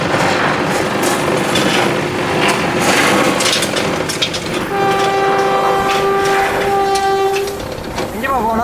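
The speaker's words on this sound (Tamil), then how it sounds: "வண்டி கிளம்பிருச்சு. சவுண்டு ஹெவியாக வரும் நினைக்கிறேன்." A homemade mini train built from scrap plywood running, with a loud close rumble and rattle that continues throughout, and a sustained horn sounding partway through.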